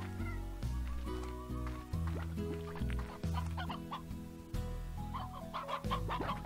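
Chickens clucking in the video game Slime Rancher, a steady run of short clucks and squawks from several hens layered over a loud, continuous game music bed.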